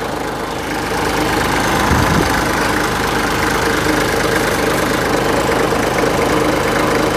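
A warmed-up HJ45 diesel jeep engine idles steadily up close, a constant rough rumble with a faint knocking texture throughout and no voices.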